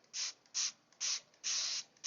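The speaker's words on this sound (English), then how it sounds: "Okay, and then we're going to spray it." Four short hissing sprays of glaze onto raku pottery in a row, close and fairly loud, with brief quiet gaps between them, the last burst lasting longest.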